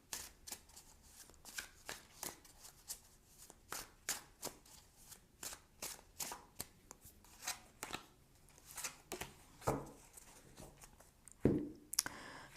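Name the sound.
tarot cards being shuffled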